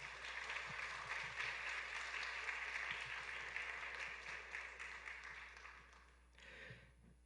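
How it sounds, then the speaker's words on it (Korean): A chapel congregation at a campus ministry service claps to welcome a speaker, a steady, fairly quiet round of applause that fades out near the end before a brief final flurry. "여러분 박수로 한번 환영해 주세요"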